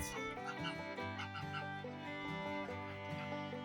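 Chickens cluck inside a coop in a rustic Portuguese village, their calls blending into a continuous dense layer of steady fowl noise with some faint voices mixed in.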